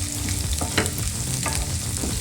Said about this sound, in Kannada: ಎಲ್ಲದೂ ಫ್ರೈ ಆಗ್ತಾ ಹೋಗುತ್ತೆ.